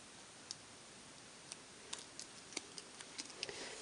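Scissors snip through paper to cut out a small heart, giving faint, irregular close clicks and snips at a quiet, unhurried pace with no talking.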